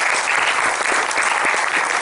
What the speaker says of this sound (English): I do want to give a round of applause to all the mentors for this group.